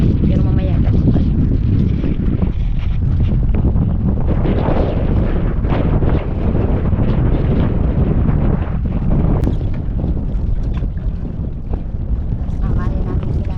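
Strong wind gusts buffet a boat out on the water, a steady low roar with rumbling microphone buffeting throughout while people talk over it.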